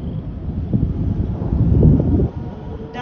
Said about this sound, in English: That is a tornado.